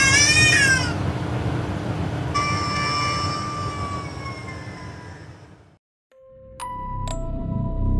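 A cat lets out a drawn-out, wavering yowl, then a long tonal wail that fades, followed by brief high metallic tones.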